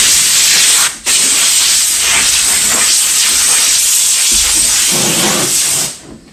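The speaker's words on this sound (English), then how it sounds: "I'm just going to blow the dust" Compressed air blasts sanding dust off a sanded leather car seat in a loud, steady, close hiss that stops briefly once, then runs on before cutting off at the end.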